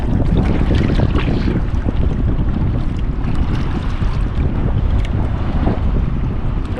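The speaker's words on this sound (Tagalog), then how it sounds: "Lakas ng hangin." Strong wind at sea buffets a small fishing boat, a loud continuous roar of gusts battering the microphone with water noise underneath and no talk.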